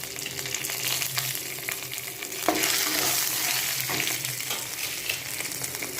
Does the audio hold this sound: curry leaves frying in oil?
yes